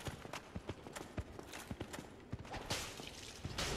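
Heavy, rapid hoof-like footfalls of a charging mad pig in the video game Dark Souls, close and rhythmic over a steady background rumble, with no voices.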